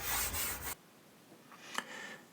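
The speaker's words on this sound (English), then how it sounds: "So good old clean up with the Scotch-Brite" Rough, steady scrubbing with a Scotch-Brite pad on an old wooden rolltop desk for under a second, then quiet with a couple of faint scrapes and a light tap.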